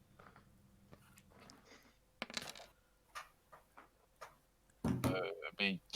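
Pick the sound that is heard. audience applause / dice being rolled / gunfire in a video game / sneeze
dice being rolled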